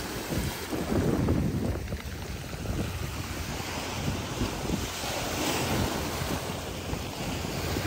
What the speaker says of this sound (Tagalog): Hindi nakakasawang tingnan yung alon